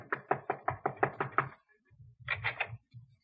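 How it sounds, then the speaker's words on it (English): Knuckles tap nervously on an apartment door: a quick run of about eight light knocks, a pause, then a few more taps, close and clear with low soft thumps in between. "he is tapping a bit nervously at the door of Miss Jessup's apartment"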